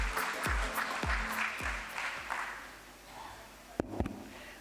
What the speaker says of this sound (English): Let's have a roaring round of applause for him, please, as I welcome him on stage.